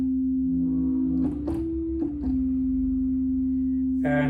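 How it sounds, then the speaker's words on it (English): On a Sequential Take-5 synthesizer, a sine wave plays with oscillator 2 brought in, a smooth steady tone that glides up a step, settles, drops back and holds, ending with a brighter burst. "Actually, no, I'm gonna put it on a sine wave."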